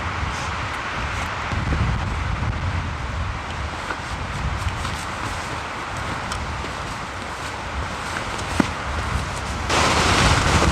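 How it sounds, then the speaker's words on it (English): Strong mountain wind in Glacier National Park buffeting the microphone, a continuous rough roar with gusts rising near the end and a single sharp click. "Still really windy, still pretty cold, but not too bad."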